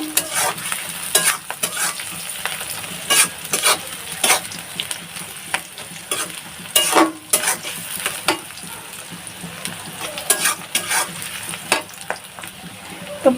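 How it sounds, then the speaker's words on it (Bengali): Onions sizzle steadily in a frying pan while a spoon scrapes and stirs in irregular bursts, close and moderately loud, with no talking. "পেঁয়াজগুলো আমি ভেজে নেব।"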